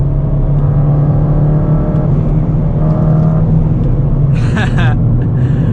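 A Ford Fiesta ST200 engine rumbles loud and close while driving, with a steady drone, swelling revs and a faint voice breaking in near the end.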